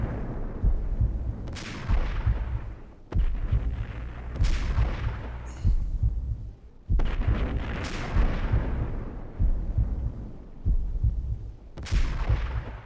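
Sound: gunfire in Max Payne 3 video game

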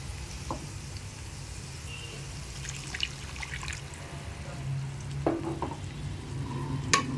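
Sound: vegetable pasta cooking in water in a pan

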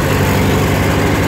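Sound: 1951 Ford 9N tractor engine starting and idling

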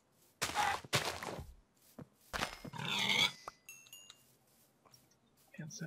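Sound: pig grunting in the video game Minecraft

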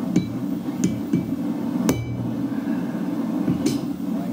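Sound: hammering a railway spike knife with a rabbeting hammer

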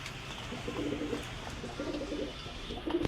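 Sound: pigeon cooing

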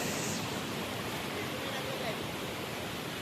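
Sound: strong flow of river water

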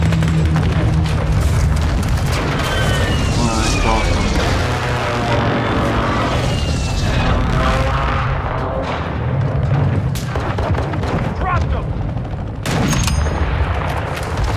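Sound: friendly airstrike explosions in Call of Duty Modern Warfare 2 video game

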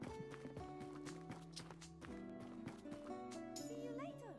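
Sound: horse hooves clip-clopping in Tavern Manager Simulator video game

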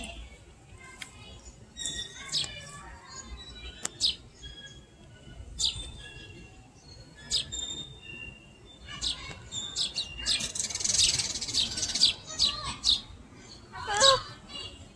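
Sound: baby sparrow chirping in a Manhattan park

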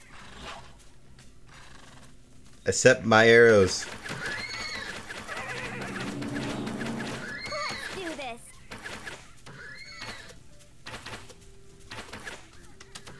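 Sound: horse neighing and hooves in a video game

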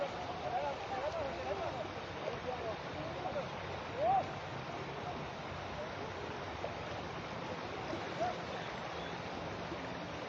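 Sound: floodwater current flowing over road

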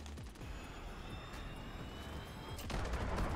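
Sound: VTOL killstreak aircraft firing, video game Call of Duty MW

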